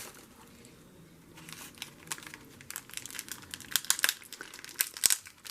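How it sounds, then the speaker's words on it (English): Plastic packaging wrap crinkles during a craft-supply unboxing, quiet at first and then building into sharper, louder bursts of crackling handled close by. "Sorry for all the crinkling."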